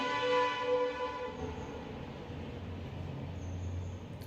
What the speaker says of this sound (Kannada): ಒಂದು ನಿಮಿಷ ಟ್ರೈನ್ ಹೋಗ್ತಾ ಇದೆ.